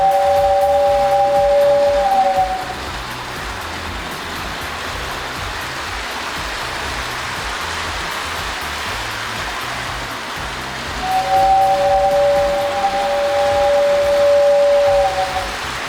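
An O scale model train pulling 13 cars of various eras rumbles steadily nearby, with a whistle sounding at the start and again near the end.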